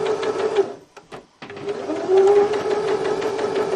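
Sewing machine backstitching a quilt line while building a chicken coop, a close, steady mechanical whir with a brief pause and stutter near the start before it runs on continuously, no voices.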